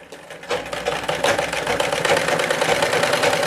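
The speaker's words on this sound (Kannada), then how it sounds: "ಈ ಥರ ಸ್ಟಿಚಿಂಗ್ ಹಾಕೊಂಬನ್ನಿ." A sewing machine stitches a cross patti along a marked line, its needle running in a fast, steady, close-up mechanical whir that starts quietly and then holds at an even level.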